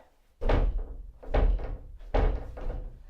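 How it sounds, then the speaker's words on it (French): A stuck cupboard door is pushed and thumped three times at a steady interval. Each push gives a heavy, close wooden thud followed by a brief rattle, and no one speaks. "la porte du placard était coincée."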